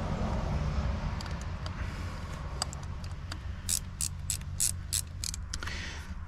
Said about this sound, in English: let's snug down the bolts now, trying to do them evenly.